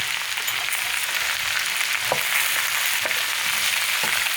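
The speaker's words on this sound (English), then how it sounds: "We keep that sizzling away." Steady, loud sizzling of a mung bean curry mixture frying in a pan, a continuous crackling hiss with occasional faint clinks, no voices.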